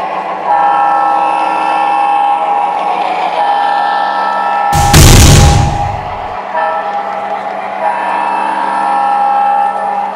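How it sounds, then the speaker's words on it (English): A slow BNSF freight train departing Joliet, Illinois nears a railroad crossing, rumbling loudly with sustained horn blasts and a sudden burst of crashing noise midway before the rolling drone and horn tones continue. "Departing Joliet, Illinois, a slow BNSF freight train had left the terminal not 15 minutes ago."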